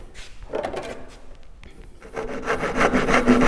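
A hand saw cuts through wood to form dovetail pins, with a few short rasping strokes, a brief pause, then a steady run of louder back-and-forth strokes, close and clear without talk.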